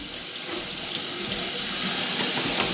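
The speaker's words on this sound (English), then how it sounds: "I'm gonna take the water on to get hot." Water from a kitchen tap runs steadily while it heats up, a continuous close hiss and splash with no talking.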